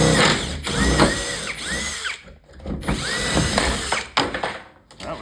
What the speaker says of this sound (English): let's drill this guy out